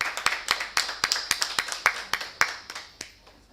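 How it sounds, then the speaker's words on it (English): Handclaps ring out in a hall at a medical event, a dozen or so sharp, distinct claps at an irregular, fairly quick pace. They sound close and sparse, more like a few people than a full crowd, and fade slightly toward the end. "A big round of applause"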